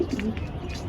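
Inside a loft of Andhra and Madras competition pigeons, one pigeon gives a brief, close, low cooing call, with no voices.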